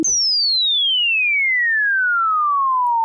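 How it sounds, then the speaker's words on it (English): One spacey sine wave tone from a U-He Repro-1 synth glides slowly downward in pitch for about three seconds, clean, steady and alone. "Spacey sine waves."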